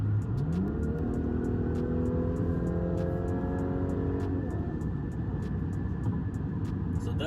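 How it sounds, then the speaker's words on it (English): Inside the cabin of a car with a Magnaflow exhaust, the engine revs up through an acceleration, its rising whine and rumble climbing in pitch before settling into a steady drone. "So that's a little bit of a sound with the Magnaflow exhaust."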